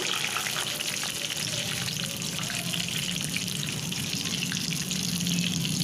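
Mirchi bajji, batter-coated chilli fritters, deep frying in hot oil over a medium-high flame, giving a steady, dense sizzle and crackle that holds evenly throughout with no talk.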